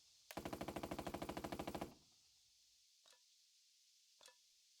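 Machine-gun fire in the turn-based WWII game Burden of Command sounds as a fast, even burst of roughly twenty loud shots over about a second and a half, then two faint distant pops.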